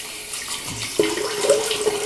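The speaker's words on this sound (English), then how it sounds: "I'm going to rinse now with 2 hands" Tap water runs into a bathroom sink as a face is rinsed by hand after a shave, a steady close splashing with brief sloshes as water is scooped and splashed.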